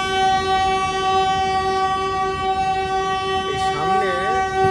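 The Purushottam Express, train 12802 from New Delhi to Puri, sounds its horn in a long, loud, sustained blast over a steady rolling rumble while running nonstop between Gaya Junction and Paharpur.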